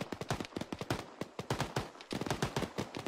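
Rapid automatic gunfire in Arma 3 during a clan combat scenario, dense and close, firing in quick overlapping bursts with brief gaps throughout.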